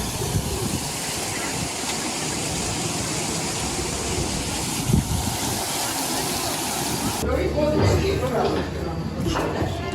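Water from a city fountain rushes and splashes in a steady wash, with people talking nearby and the flow shifting in the final seconds.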